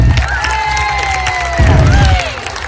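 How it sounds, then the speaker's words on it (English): Primary school children cheering and clapping at a fitness visit, a loud, excited crowd of young voices whooping over scattered applause, close and lively, with a strong low rumble underneath. "I want to give everybody who took part today a massive clap"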